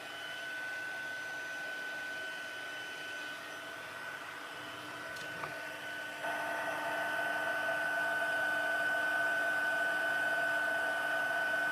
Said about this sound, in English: I'm just going to bring in the heat tool.